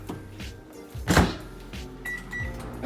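A microwave oven runs while cooking a poached egg in a bowl of water, a low steady hum with a brief louder thunk partway through and faint tonal beeps near the end.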